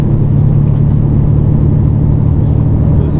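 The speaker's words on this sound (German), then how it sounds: "Ich fahre jetzt aus meiner Halle raus" A truck's engine rumbles loud and close in a steady, unbroken drone as it drives out of a hall.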